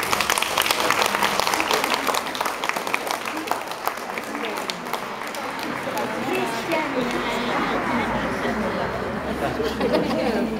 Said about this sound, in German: Und dazu begrüßen wir dich mit einem Applaus.